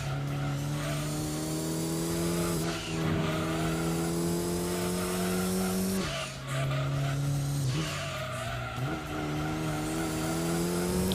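Mitsubishi Lancer Evolution racing in Gran Turismo 2: a steady, loud engine drone holds a high pitch, with brief dips at gear changes and tyre squeal as it corners. No talk.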